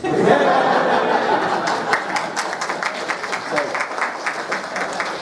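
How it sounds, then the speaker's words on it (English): An audience at a tabletop roleplaying game show at UK Games Expo 2018 bursts into laughter that turns into steady, rhythmic applause, the clapping growing clear and sustained through the second half. "That's the other applause break of the show."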